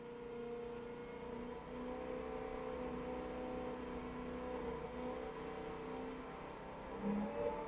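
A Chevy V-8 engine runs under a dynamometer load test, a steady droning hum with tonal whine, heard at moderate level with a slight surge near the end and no speech.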